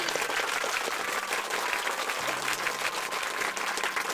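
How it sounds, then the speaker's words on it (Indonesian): A group claps together in a sustained, fairly even burst of applause for about four seconds, busy and bright, with no voices over it. "Tepuk tangan 10 kali"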